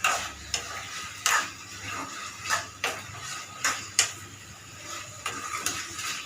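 Chicken frying over a medium flame in a pan with a soft sizzle, broken by sharp scraping clacks of a spoon stirring at irregular intervals.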